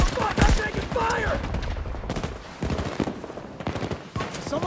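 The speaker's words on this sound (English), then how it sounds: "I'm taking fire." Battlefield 2042 Portal gameplay in a Battlefield 3 setting, with sustained automatic weapon fire crackling in steady, rapid bursts, mixed with nearby shots and distant battle din.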